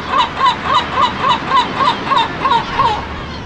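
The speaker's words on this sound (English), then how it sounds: "High above the water, the seagulls are also reproducing, using the cliffs as nesting sites" Seagulls calling from cliff nesting sites high above the water, a steady run of about ten harsh, rhythmic honking cries at close range against a windy background.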